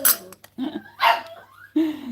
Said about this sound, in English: Oh, those dogs are so mad.